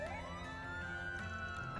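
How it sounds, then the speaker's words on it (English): A police siren in the video game Trails Through Daybreak II wails with rising, wavering tones, faint and distant beneath a steady ambient background, with no talk. "A police siren? Doesn't sound like it's coming from the second ward."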